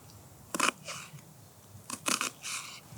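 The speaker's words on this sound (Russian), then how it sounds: "Лук я нарежу достаточно такими большими, грубыми кубиками" Knife chopping red onion into large coarse cubes on a cutting board outdoors in a forest, with a few separate crisp cuts in two short bursts, close and fairly quiet.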